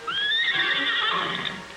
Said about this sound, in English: and the wild horses.